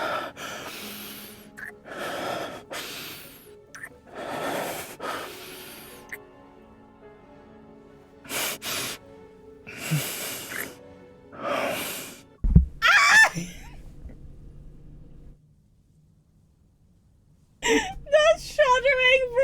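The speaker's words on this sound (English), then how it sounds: "The shuddering breathing, I can't!" Shuddering, whimpering breaths and gasps from a character in the game Love and Deepspace come in repeated uneven bursts. A sharp thud and a short silence break them up before more sounds return.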